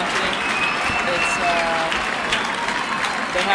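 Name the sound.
home crowd cheering at rugby match in Coimbra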